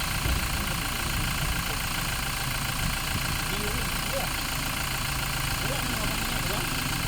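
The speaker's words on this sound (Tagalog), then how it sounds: "Makinig tayo sa engine niya para umaandar na yata yan." A 2017 Toyota Fortuner's engine runs at a steady idle, giving a constant low rumble at close range. Voices are heard over it.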